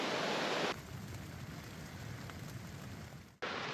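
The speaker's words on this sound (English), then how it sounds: "It is still raining, but I think it has slowed down considerably" Steady rain drums on a tent during a multi-day backpacking trip on the Rockwall Trail in the Canadian Rockies, a dense continuous patter close overhead with a sudden loud burst of rustling at the start and end.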